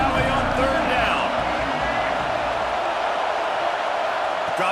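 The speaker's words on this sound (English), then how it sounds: "Here comes the noise from this big crowd in Happy Valley on 3rd down." Crowd noise from a big stadium crowd in Happy Valley on third down in a Penn State college football video game: a steady, loud roar with no breaks, while a commentator speaks over it.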